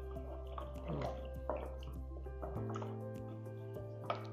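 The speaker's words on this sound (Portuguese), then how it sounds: "Vou colocar mais um pouquinho de água, ó, mais ou menos umas 100 ml." Water poured into a pot of beef ribs and cassava, a soft, steady trickle and drip of liquid close by with small splashes, no talking.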